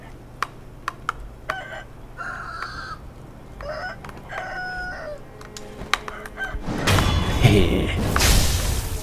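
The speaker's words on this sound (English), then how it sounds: "Not chickens, roosters." Roosters in the video game Sekiro crow and cluck in a series of short calls with sharp clicks between them, followed by a louder rushing burst of noise near the end.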